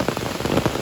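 Heavy rain patters hard on a surface, a dense spatter of close drops over a brief stretch with no talking.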